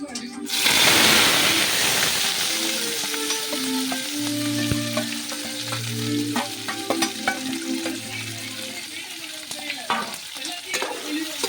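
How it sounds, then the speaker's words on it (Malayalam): Chopped onion, curry leaves and green chili drop into hot oil for chicken curry, erupting in a loud sizzle that settles into steady frying with scattered stirring clinks and a low hum in the background. "നമ്മുടെ സവാളയും കറിവേപ്പില പച്ചമുളക് ഇതെല്ലാം കൂടി അരിഞ്ഞത് നമുക്ക് എണ്ണയിലോട്ട് ഇട്ട് കൊടുക്കാം."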